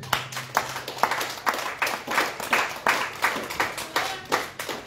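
A church congregation claps in a steady rhythm, about two claps per second, loud and close, with no talking over it, acclaiming Jesus during an evangelical sermon.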